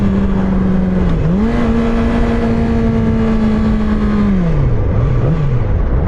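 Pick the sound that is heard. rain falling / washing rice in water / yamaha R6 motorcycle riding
yamaha R6 motorcycle riding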